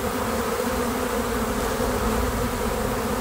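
Honey bees buzzing in an open beehive, a dense, continuous droning hum of many insects close up, steady and loud throughout with no pauses.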